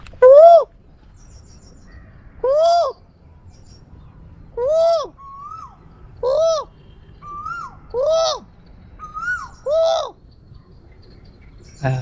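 A man imitates a cuckoo call near a large stone arch, voicing about seven evenly spaced, rising-falling hoots roughly every one and a half seconds over quiet background hiss.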